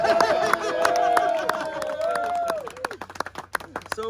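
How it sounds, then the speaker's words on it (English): Applause and cheering from a crowd at a trucker protest in Washington DC, with a voice ringing out above the clapping before it thins into scattered claps and murmurs. "Round of applause for this president"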